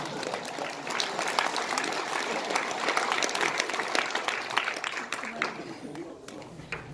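An audience at a lecture in a press center claps together in sustained applause, dense and even, with a few voices mixed in.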